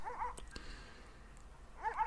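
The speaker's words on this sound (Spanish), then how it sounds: "Los perros seguían ladrando a la distancia." Dogs barking at night from a distance, two short bursts of yelping barks at the start and end with quiet between, faint and far off.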